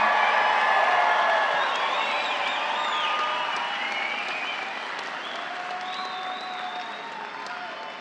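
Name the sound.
applause and cheering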